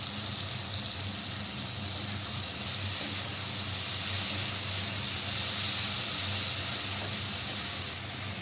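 Chopped onion and garam masala sizzle in a hot pan while shrimp are cooked, a steady crackling hiss, close and even, with faint stirring noises and no talk.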